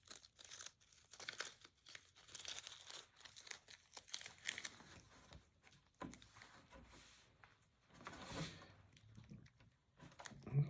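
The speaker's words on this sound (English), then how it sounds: "I'm gonna pull this tape off of here." Tape being peeled off a wooden stand-up paddle board, with crinkly tearing bursts and pauses that come in uneven strips, close and fairly quiet.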